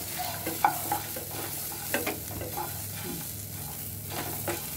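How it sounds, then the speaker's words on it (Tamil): Shallots and garlic frying in a pan, heard as a steady soft sizzle broken by intermittent scraping stir strokes, close and moderately quiet with no talking. "இதே நல்லா கொஞ்சம் கலர் சேஞ்ச் ஆகிற அளவு ஃப்ரை பண்ணிக்கோங்க"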